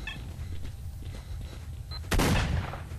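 Gunfire in the shooter video game S.T.A.L.K.E.R.: Shadow of Chernobyl: a dense rumbling ambience broken by a sharp, loud shot or burst near the end, with no voices over it.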